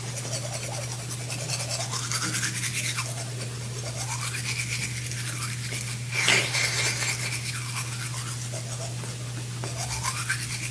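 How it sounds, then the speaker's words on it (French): A toothbrush scrubbing teeth in steady back-and-forth strokes, close and continuous with a constant low hum underneath, and no talking. "Je me brosse les dents."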